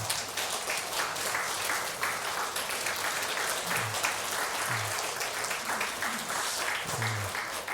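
A church congregation claps together at a Sunday worship service, the steady applause filling the room at moderate volume while a few low voice fragments surface faintly beneath it.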